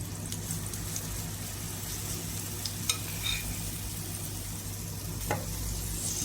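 Banana oatmeal pancakes frying in butter give a steady, close sizzle with a constant low hum, broken by a few faint clicks and light scrapes of a utensil.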